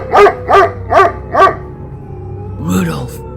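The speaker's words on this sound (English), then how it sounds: "I heard a dog bark right outside of the tent." A dog barking right outside a tent, four evenly spaced close, loud barks followed by a drawn-out whine or yelp.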